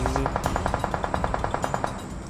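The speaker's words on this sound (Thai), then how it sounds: "โอ้เสียงยิงแบบจ้าละวันเลยนะ" Rapid, evenly spaced bursts of automatic gunfire in PUBG Mobile, about a dozen quick shots in a row, over dense, noisy game audio.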